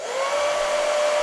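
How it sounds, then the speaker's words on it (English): A hair dryer aimed at the tips of crayons blows steadily at close range, a constant airy whoosh with a high motor whine, unbroken throughout. "aim the hairdryer at the bottom tips of the crayons and turn the hairdryer on"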